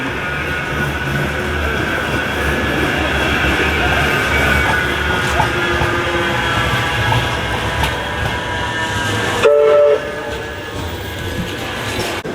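A tram runs through Manchester city centre, its steady rumble and rail noise holding loud and continuous throughout, with a brief brighter squeal near the end.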